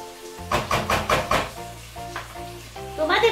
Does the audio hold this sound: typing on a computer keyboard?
no